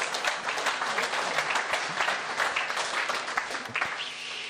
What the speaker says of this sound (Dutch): Azing Waldhaus, nog een applaus.